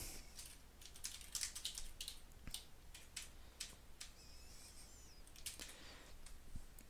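Quiet typing on a computer keyboard: a loose run of soft, close key clicks with uneven gaps and a few brief louder taps, over low room hiss.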